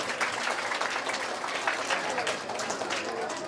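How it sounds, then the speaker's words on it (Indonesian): Congregation at an Isra Mi'raj sermon in an Islamic boarding school clapping, a continuous spread of applause at moderate level with some voices mixed in. "Tepuk tangan untuk kita semua."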